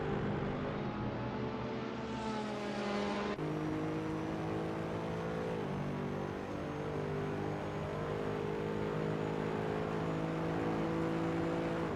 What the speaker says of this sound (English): Love the sound of this engine. Deep and throaty.